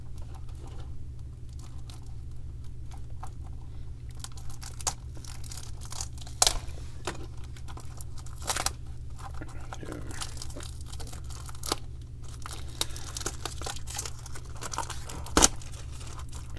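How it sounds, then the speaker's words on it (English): Plastic packaging comes off a Tomica Premium diecast car with scattered crinkles, tears and crunches. Most are soft, a few sharper, over a steady low background hum. "I should have unwrapped this thing before filming."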